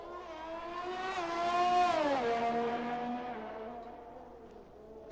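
Onboard AlphaTauri Formula 1 car in an F1 racing game, its engine note climbing through the gears on a hot lap at the Canada circuit, then falling and fading; a single loud pass with no voices.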